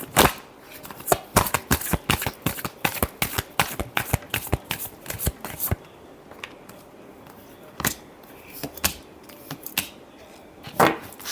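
Tarot cards are shuffled close up in rapid, crisp riffling slaps, a dense burst at first, then slower, scattered flicks and taps.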